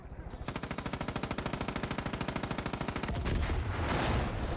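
Sustained rapid machine gun fire in Far Cry 5, a loud, steady burst of evenly spaced shots running about three seconds before giving way to a dense explosive roar.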